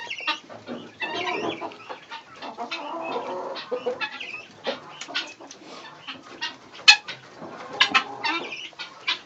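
Chickens cluck and murmur softly as they settle to roost in a barn, a close, overlapping chorus of low calls with a few sharper squawks.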